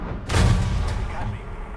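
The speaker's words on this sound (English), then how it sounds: "And you get 750 rounds with this cannon." The cannon of an F-104 Starfighter fires in a combat flight video game. It gives one loud, low, rumbling burst that decays over about a second.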